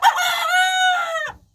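A rooster crows once, loud and near, a long hoarse call that rises, holds, and breaks off abruptly into silence.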